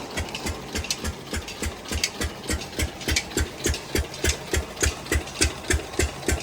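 A village water pump motor engine chugs close by in a steady, rhythmic run of thumping beats, loud and alone.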